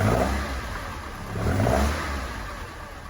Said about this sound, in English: So we first need to get the engine running and up to temperature.